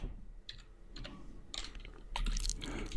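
Typing on a computer keyboard gives a few soft, scattered clicks close by, followed by a quicker, louder burst of keystrokes near the end.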